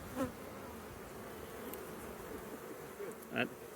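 Honeybees buzz steadily through a beehive inspection as frames are moved about, a low continuous hum with a couple of brief louder bursts close by.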